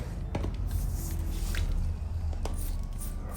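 Water sprays onto a Euphorbia stellata succulent as it is cleaned, a close hissing, squishing wash with small drips and handling noises throughout.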